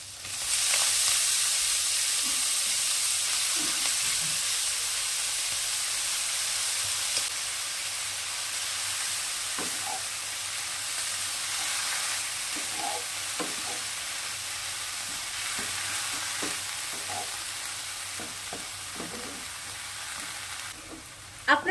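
Chopped pea greens fry with fried shrimp in a pan, giving a steady close hiss of sizzling with a few faint stirring clicks, no talk.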